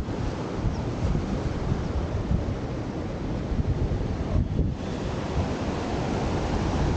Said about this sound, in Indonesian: tapi ombaknya lumayan agak besar, jadi kita nggak berani ke tengah untuk main air